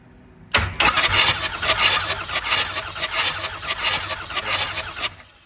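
Ford Excursion engine cranking over and over with a steady rhythmic starter whir, loud and close, with no catch or start, running unbroken for about five seconds.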